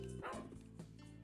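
A dog barks in the video game Reverie, a couple of quick close yips and a softer follow-up bark heard alone.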